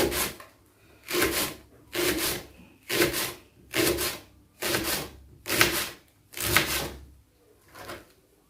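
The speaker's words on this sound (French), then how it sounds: "nous allons hacher notre poireau" A knife chops leek on a cutting board in a home kitchen, about nine steady, evenly spaced strokes, each a short scraping, rubbing thud, close and clear with no voices.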